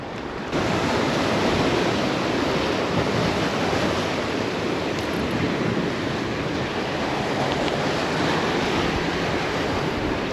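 Sea waves break on a rocky shore during rock fishing, a loud, continuous wash of surf roaring without pause.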